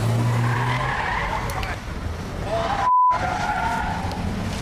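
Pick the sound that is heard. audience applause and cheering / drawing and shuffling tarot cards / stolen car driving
stolen car driving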